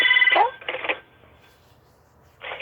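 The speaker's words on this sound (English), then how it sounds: "Oh my goodness, now there's a phone ringing." A telephone rings indoors in loud electronic trills, two bursts close together, then a pause and a third ring starting, with no talk over it.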